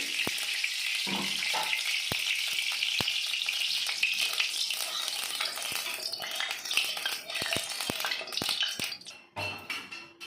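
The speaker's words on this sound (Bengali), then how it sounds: "এবার আমি কড়াইতে দিয়ে দেবো পরিমাণ মতো তেল" Oil in a wok, ready for frying tilapia, gives off a loud, steady hiss close by, with a few sharp utensil clicks and a sudden change near the end.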